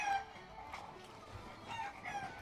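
Hens clucking and a rooster-like crow from a pirate-themed indie video game, game sound effects layered in short repeated bursts at moderate volume with no talk.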